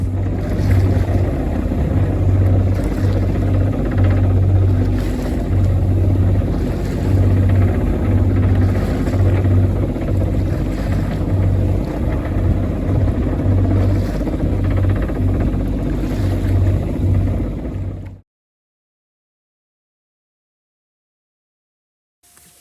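Boat engine drones steadily and loudly at close range with wind across the microphone while motoring through the shallow Sound of Iona off the west of Mull, then cuts off to silence near the end.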